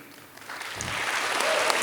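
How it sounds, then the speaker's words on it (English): Applause from a gala audience at a Michael Levin Base fundraiser, rising from a quiet start into steady, moderate clapping across the short stretch. "There's more clapping to be done."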